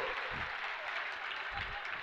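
Audience applause during a religious sermon, a short faint patter of clapping from a crowd heard at a distance, steady for about two seconds.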